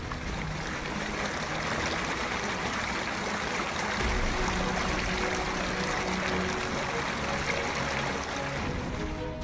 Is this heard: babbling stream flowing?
yes